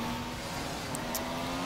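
Formula 1 race car engine from a 2015 F1 mod in the rFactor racing game at Jerez, a steady sustained drone held at constant pitch, moderately quiet and continuous without talk.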